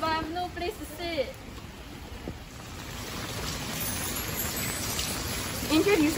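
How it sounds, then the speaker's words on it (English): Rain falls steadily outdoors in Bedok, a continuous soft hiss of drops on surfaces at moderate distance, with brief tonal sounds near the start and end. "Oh my god, why is it raining again?"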